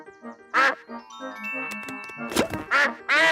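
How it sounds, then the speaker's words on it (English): Cartoon duck quacking, the character Mrs. Duck from the Peppa Pig animated series, with a few loud, close quacks near the end following light jingly music and chimes. "Oh, it is Mrs. Duck. She has come to take a look at the boots."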